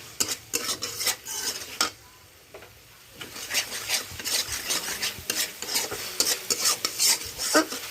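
Fried masala with chili sauce being stirred in a pan, brisk repeated scraping and clinking of a spoon against metal over a light sizzle, close and lively, pausing briefly midway.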